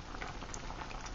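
Soup with turmeric, pepper and vinegar boils in a pot as a steady, dense bubbling hiss, close and continuous.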